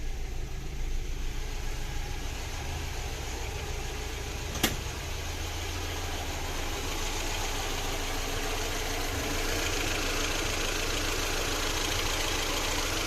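A VAZ car engine, warmed nearly to operating temperature after a head gasket replacement, idles steadily and evenly at close range, a low continuous rumble with one sharp click partway through.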